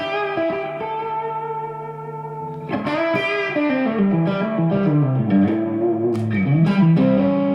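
Electric guitar played through a distortion pedal into a bright amp, a held chord that then slides into bending, wavering notes with a gritty, saturated buzz and some reverb.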